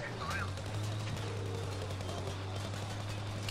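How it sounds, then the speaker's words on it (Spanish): Gunfire aimed at the player in Battlefield V, heard as a quick volley of shots early on before fading under a steady low hum of battle noise. "¿Quién me está disparando a mí?"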